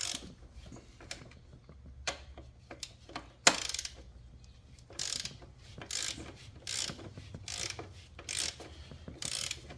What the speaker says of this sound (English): if you have an extension, it makes it a little bit easier to break it loose